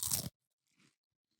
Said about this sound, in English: Double crunch. Ooh, that's crunchy.